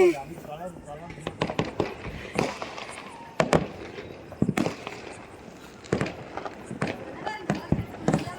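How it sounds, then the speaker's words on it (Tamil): Colourful fireworks and firecrackers at a family Diwali celebration go off in a run of sharp bangs and crackles at irregular intervals, some close and loud, with people talking throughout. "அந்த கலர் கலர் வெடிக்குது"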